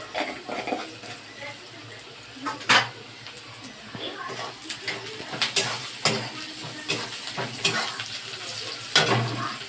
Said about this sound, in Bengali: নুন হলুদ দিয়ে এবার একটু ভালো করে এটাকে ভেজে নিতে হবে।